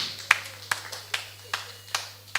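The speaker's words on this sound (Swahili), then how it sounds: "Pigia Yesu makofi mazuri kanisa" A church congregation at a Sunday service claps together for Jesus in a slow, steady beat of about six sharp claps, evenly spaced, over a low steady hum.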